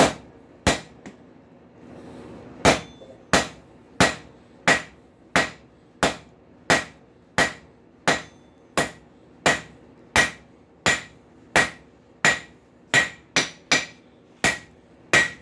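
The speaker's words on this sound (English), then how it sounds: "I was using a 4-pound hammer. Time is limited. Need more force. Use a bigger hammer." Heavy hammer blows strike hot steel in a steady rhythm, about twenty sharp ringing hits close by with no talking, forging rail spike tongs.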